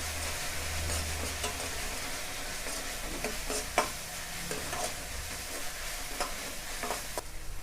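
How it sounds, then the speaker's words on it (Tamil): Ginger garlic paste sautéed in a pan for egg fried rice: a steady close sizzle of frying with occasional scrapes and taps of a spatula stirring against the pan, no voices. "இதுவும் நல்லா பச்சை வாசனை போகிற அளவுக்கு இந்த மாதிரி வதக்கிடுங்க"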